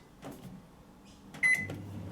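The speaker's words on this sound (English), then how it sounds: "this is the first time I've ever used this microwave" A microwave oven running a full seven-minute cycle at 800–850 watts hums steadily and low, with a few clicks and a brief higher tone partway through.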